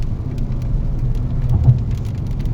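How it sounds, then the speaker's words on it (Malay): Heavy rain drumming on a car driving along a highway toll road toward Kuala Lumpur, a loud steady road roar with dense rain patter and faint ticks of drops on the body, no talk. "Hujan lebat."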